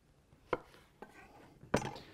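A knife cutting a large zucchini in half on a cutting board, three crisp chops spaced about half a second apart, close and clear with no talking.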